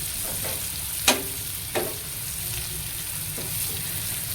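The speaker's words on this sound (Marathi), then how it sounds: "मिरच्या पण चांगल्या भाजलेल्या आहेत बघा" Dried red chillies roast in hot oil during the making of a dry sprouted matki bhaji, a steady close sizzle with a few sharp spoon scrapes against the pan.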